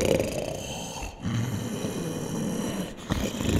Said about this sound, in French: Les ronflements avinés du Cyclope résonnent dans la caverne.